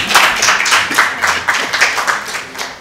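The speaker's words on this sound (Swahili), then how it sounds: "Naomba mpige makofi afu niwaambie." An audience at a public-service discipline address claps in a loud, continuous, fairly rhythmic round of applause lasting a few seconds, with little talk over it.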